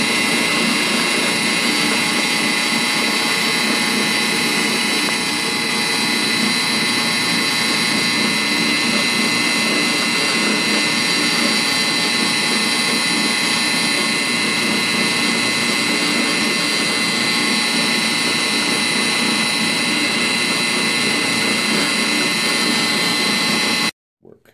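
A drill press drilling holes in wood gives a loud, continuous machine whine with a dense, steady roar that runs unbroken for over twenty seconds, then cuts off abruptly.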